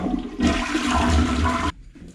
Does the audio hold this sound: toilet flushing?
yes